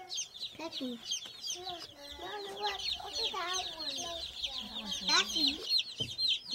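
Several chickens cluck and chatter continuously nearby, overlapping one another, while a person briefly speaks.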